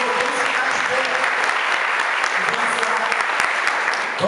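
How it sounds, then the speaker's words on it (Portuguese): A church congregation at an anniversary service applauding steadily, a dense, loud, continuous wash of many hands clapping throughout. "Dê um aplauso para ele agora"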